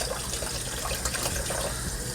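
Water from a kitchen tap runs steadily as a cooked beet is rinsed under it, a continuous close splashing with no talk.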